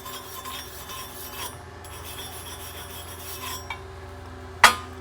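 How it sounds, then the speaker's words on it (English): A wire brush scrubs a flux core weld clean, making soft raspy rubbing strokes in bursts, ending with a sharper scraping stroke near the end. "We'll take our handy dandy wire brush. Make sure everything is clean."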